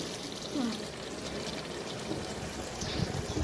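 First coconut milk poured into a simmering chicken stew, a steady soft liquid pour running throughout, close and even.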